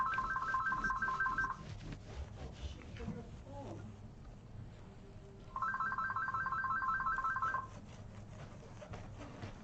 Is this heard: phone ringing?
yes